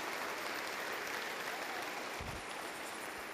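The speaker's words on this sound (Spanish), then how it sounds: "Dale un fuerte aplauso a Jesús." A church congregation applauding: dense, sustained clapping from many hands, fairly distant and even, continuing throughout.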